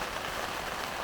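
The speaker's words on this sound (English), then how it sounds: "the rain is here" Rain falling at a snowy winter campsite, a brief unbroken wash of broadband hiss from drops, close and steady with no voices.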